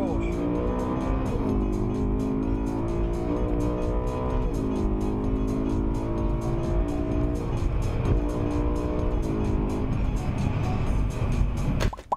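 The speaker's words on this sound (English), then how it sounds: "Getting max traction in second gear because these cars do like to spin up in second." A BMW M3 accelerates hard in second gear with tyres spinning, its engine rising in pitch through repeated surges, loud and close throughout before cutting off abruptly at the end.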